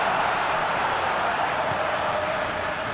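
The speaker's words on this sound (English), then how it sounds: "the crowd are reacting to that now" Stadium crowd at a football match, a dense, steady roar of many voices with a slight cheering swell, sustained and fairly loud throughout.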